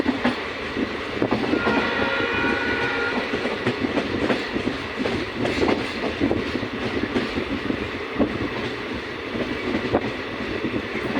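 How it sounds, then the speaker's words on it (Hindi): A train rumbles and clatters close by at Babar railway station, with steady rhythmic wheel clicks and a brief horn-like tone near the start. "Babar railway station."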